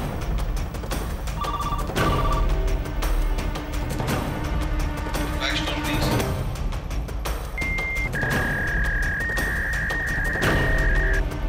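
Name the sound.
telephone ringing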